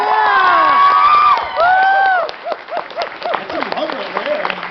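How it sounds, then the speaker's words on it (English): Fans at the Everfree NW 2017 convention Q&A panel cheer and whoop loudly for the staff, high-pitched shouts and squeals rising over scattered clapping, then trailing into shorter excited calls. "can we get a round of applause for the staff of Everfree NW?"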